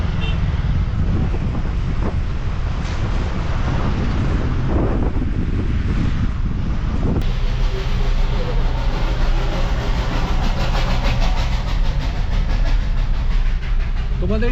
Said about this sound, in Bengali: এটা কিন্তু স্টিম ইঞ্জিনের আওয়াজ। এটা কিন্তু বাতাসিয়া লুপে যাচ্ছে।